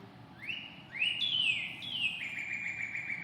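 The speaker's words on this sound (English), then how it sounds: "What kind of bird is that? Redbird." A cardinal sings clear, rising and falling whistled phrases, three or four slurred notes in a row, fairly close over a soft background hush.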